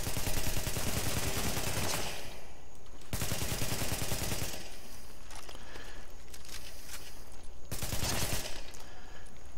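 Loud bursts of automatic gunfire in a shooter video game, two long sustained volleys followed by scattered shots and a final burst, with no talking.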